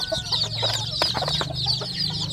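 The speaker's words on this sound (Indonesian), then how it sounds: "Di dalam box ini anak ayam kampungnya ini saya sertakan dengan induknya sedulur ya." A mother hen with newly hatched free-range chicks in a rearing box, the chicks cheeping continuously in a high shrill chorus while the hen clucks low and intermittently, all close by.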